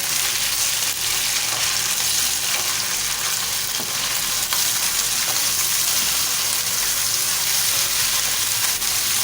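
Minced meat keema sizzles loudly in a karahi, a dense continuous frying hiss with occasional stirring scrapes, close and steady throughout with no talking.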